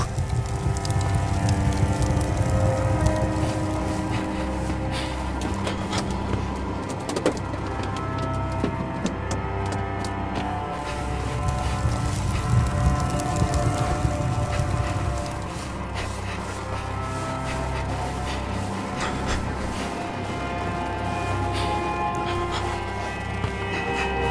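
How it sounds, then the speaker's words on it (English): Heavy hail in the video game The Fidelio Incident, a dense, continuous hiss and patter of hailstones with scattered sharper impacts, loud and unbroken for the full length. "Hail's too strong. I can't get through."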